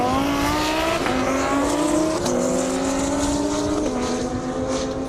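A drag racing car launches down an airstrip, its loud engine note climbing steadily through rising gear-change steps with brief shifts, continuous and close throughout.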